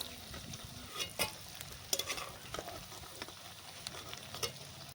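Dried red chillies frying in oil in a pan for a Bengali panta bhat dish: a steady low sizzle with scattered crackles and a few louder stirring clicks, close by, no voices.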